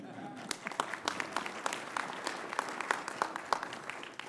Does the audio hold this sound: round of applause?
yes